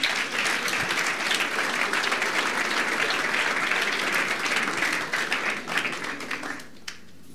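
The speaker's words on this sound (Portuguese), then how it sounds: "Vamos aplaudir ao Senhor pela vida dele." A church congregation bursts into sustained applause during an evening worship service, loud and dense clapping from many hands that carries steadily for several seconds before tapering off into quiet.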